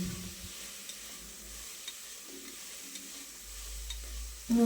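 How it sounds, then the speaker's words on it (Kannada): Potatoes frying in a pan for fresh pigeon pea sambar, a low continuous sizzle with soft spatula stirs and scrapes, ending in a louder clatter. "ಆಲೂಗಡ್ಡೆ ಏನಿದೆ ಅದನ್ನು ಕೂಡ ಸೇರಿಸ್ಕೊಂಡು ಒಂದೆರಡು ನಿಮಿಷ ಫ್ರೈ ಮಾಡ್ಕೊತಾ ಇದ್ದೀನಿ"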